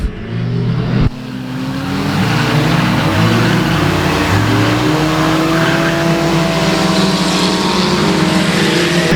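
Race cars run at speed around a track at the Cajun Classic, several engines roaring and shifting pitch as they pass in a dense, continuous, loud wash of sound.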